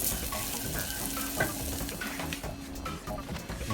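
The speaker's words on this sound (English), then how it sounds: "So now our garlic's starting to get a little cook on it." Garlic sizzling in a hot pan, a steady close crackle and hiss with light stirring scrapes mixed in, moderately loud and steady for a few seconds.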